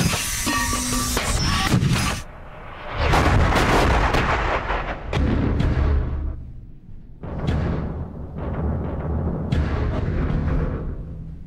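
Artillery fires heavy rounds, heard from inside a bunker at a firing range: several loud, booming blasts in succession, each followed by a rumbling decay, with no talk.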